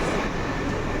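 Kolkata metro train heading toward Howrah, a loud continuous close rumble of wheels on track filling the carriage interior, with no talk.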